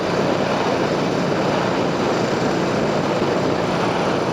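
A beginner motorcycle engine runs at low RPM with a steady, unbroken drone that holds the same level throughout, close by and with no other sounds.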